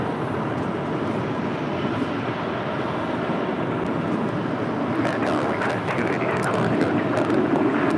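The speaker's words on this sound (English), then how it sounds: "we're hearing planes take off on the north side" Jet airplanes taking off at LAX, a continuous distant rumbling roar that builds slightly toward the end, with faint rustling nearby.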